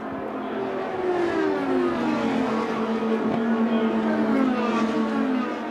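IndyCar race cars on the final lap of the Indianapolis 500, a loud engine whine sweeping past with Doppler pitch drops as cars pass one after another, over steady crowd and track noise.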